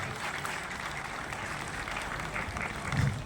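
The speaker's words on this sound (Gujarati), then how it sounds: "ખૂબ તાળીઓ વ્યક્ત કરીએ આપણે બધા" An audience at a Gujarati product launch ceremony applauding as the chairman is presented with a ceremonial shawl, steady sustained clapping from a crowd at moderate distance, a dense even wash with no talking over it.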